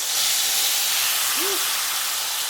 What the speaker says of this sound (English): our pork chops have now been frying on one side for 3 minutes